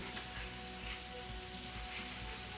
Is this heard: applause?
no